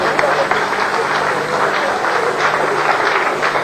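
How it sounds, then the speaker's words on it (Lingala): A church congregation at a 2007 ministers' meeting applauds in a sustained burst of crowd clapping, dense and steady throughout with a bit of voice mixed in. "Acclamez très fort."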